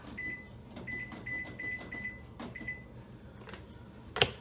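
Short electronic beeps from button presses on an oven panel as the timer is set, irregular taps over a few seconds, ending in a louder beep.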